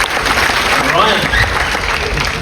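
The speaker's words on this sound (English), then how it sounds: "Round of applause for Dean" An audience gives a round of applause for a performer aboard a cruise ship, a dense, loud, continuous roar of clapping with a brief voice over it.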